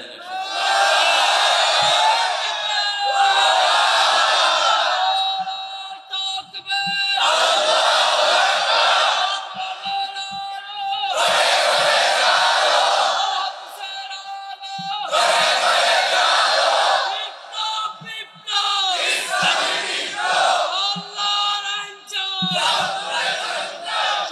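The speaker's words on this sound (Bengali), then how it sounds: "সবাই তাকবীর দেন একসাথে, দেন" A large crowd at an outdoor Islamic sermon chants the takbir together in about six loud, powerful collective bursts, each separated by brief pauses.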